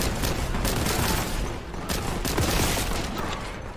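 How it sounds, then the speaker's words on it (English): Grenade thrown and exploding in a video game, a dense sustained roar of blasts and gunfire-like crackle that stays loud and continuous throughout. "Oops, I didn't mean to throw a grenade."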